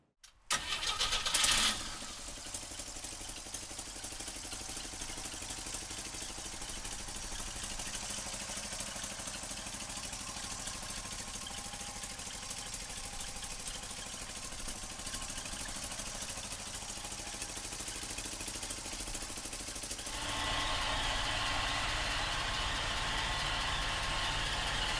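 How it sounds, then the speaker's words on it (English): A 1950 Chevrolet pickup truck engine cranks and catches with a brief loud burst, then settles into a steady, even idle that runs on for a long stretch, picking up a slightly brighter tone near the end. "So come on up and we'll fire it up for you right now."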